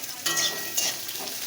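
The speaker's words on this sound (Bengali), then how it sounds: "এখন ওই তেলের মধ্যে দিয়ে দেব আমি পেঁয়াজ কুচি।" Chopped onion hits hot oil in a pan and sizzles bright and close, with stirring pulses rising and falling through the short burst.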